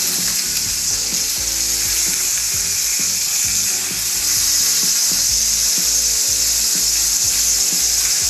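Pork belly sears in a hot pan with a steady, loud, close sizzle and crackle that runs unbroken, with periodic scraping and rubbing bumps from a tong moving the meat; no talking.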